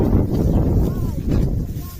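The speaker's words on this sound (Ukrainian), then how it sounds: "Боже, який вітер, як шумить вітер." Steady gusting wind roars across the microphone in a low rumble, with a voice faintly present underneath.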